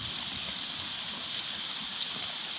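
Heavy downpour in the Panamanian jungle drums on a makeshift survival shelter, a dense, steady hiss of rain heard close and unbroken with no speech.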